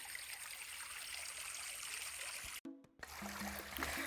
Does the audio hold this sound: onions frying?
no